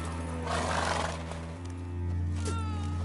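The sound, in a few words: horse Roach whinnying in video game The Witcher 3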